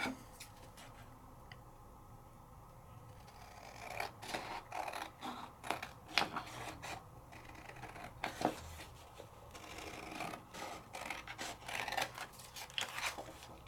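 Scissors trim the edges of a handmade paper card, a close, quiet series of irregular snips and paper rustles over soft background noise, with no talking.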